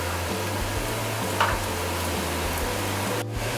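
Lean pork stir-frying in oil in a pan, a steady close sizzle with faint stirring scrapes and a brief clink, no talking.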